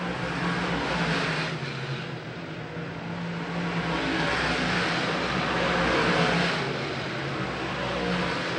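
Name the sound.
big block modified race car driving on track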